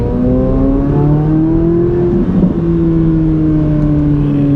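A Chevrolet Corvette C8 Z06 engine pulls hard while driving, heard from inside the car as a loud, smooth, rising engine note that climbs steadily, dips briefly at a shift, then keeps building.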